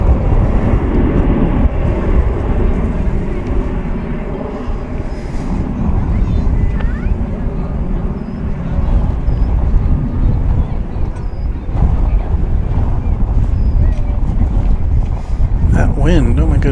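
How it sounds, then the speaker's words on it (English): Wind blowing at DFW Airport, roaring and buffeting the microphone in a loud, continuous rush with gusty swells. "Wind, oh my goodness."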